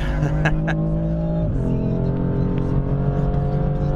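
A BMW M4 drifting on a circuit, its engine roaring loud and close with a steady harmonic growl that drops in pitch midway, while a voice talks over it.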